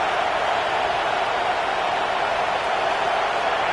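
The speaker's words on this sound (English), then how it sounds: "This crowd bringing the energy and noise early" Football stadium crowd giving a steady, dense roar throughout, a continuous wash of cheering and noise with no breaks or distinct voices standing out.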